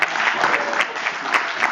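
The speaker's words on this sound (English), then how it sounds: "let's give Michael a round of applause" Brisk audience applause at a SharePoint requirements conference session, a continuous clatter of many hands with a few sharper claps standing out, lasting under two seconds.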